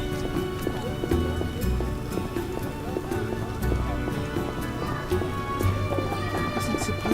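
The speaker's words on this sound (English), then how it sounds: "Isn't supposed to rain." Steady rain in The Witcher patters and hisses throughout, with scattered drop-like taps and a low rumble underneath, sounding like a synthetic game soundscape.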